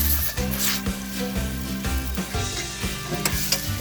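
A pancake sizzles loudly in a hot, smoking pan as it is flipped, with steady frying hiss and a series of soft low knocks from the turner against the pan.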